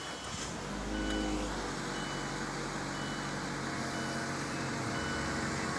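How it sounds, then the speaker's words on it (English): 2017 Mazda CX-3 engine starting by push button, a quick crank catching into a steady, fairly quiet idle hum with a faint electronic chime early on. "Nice little startup right there."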